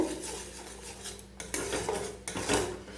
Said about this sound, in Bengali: গরম মশলাটা দিয়ে এইভাবে নাড়িয়ে নেব।